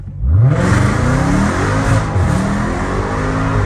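Dodge Hellcat Redeye pulling away from a stop in second gear, a loud close engine roar rising in pitch as it accelerates and holds for a few seconds.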